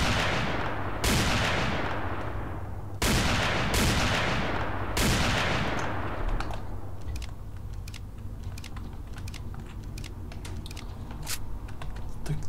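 Gunfire in the video game S.T.A.L.K.E.R.: Call of Pripyat (SGM 2.2 mod) in the Agroprom Underground: several loud, close shots early on, each trailing off, followed by quieter scattered clicks and faint distant pops.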